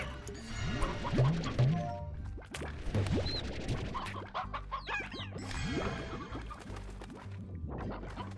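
Chickens and a rooster in the video game Slime Rancher cluck repeatedly in short bursts, with game thumps and crashes scattered between them.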